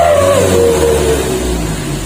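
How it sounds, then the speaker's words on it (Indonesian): A 1996 Mitsubishi L300 engine roars loud and close through a custom wolf-style exhaust set to its largest capacity, holding a sustained throaty rev whose pitch slides slightly downward, with no talking. "Ini barusan yang kita coba ya untuk kapasitas knalpotnya yang paling besar"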